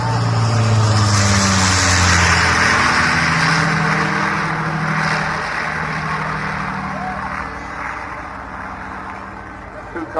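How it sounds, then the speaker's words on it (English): Deep, droning roar of the four Merlin piston engines of an Avro Lancaster bomber, loud and sustained, slowly fading as the plane passes, with a voice speaking over it. "Who can't be moved by the sound of those four Merlin engines?"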